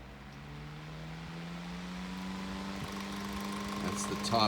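Antique 1902 GE Pancake electric fan with a five-speed motor, switched up to top speed: a steady near hum with a slowly rising motor tone, some rattling noise building toward the end.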